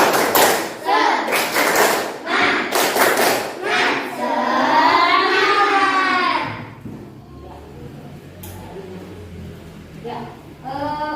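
A classroom of students doing a rhythmic spirited clapping chant, bursts of loud group claps alternating with chanted voices, then fading to quieter talk and a few scattered claps.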